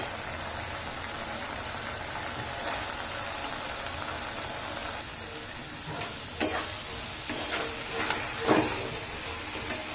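Cauliflower florets going into a pan of frying, onion-free and garlic-free cauliflower paneer curry, with a steady close sizzle throughout and a few sharper crackling bursts and spoon scrapes toward the end.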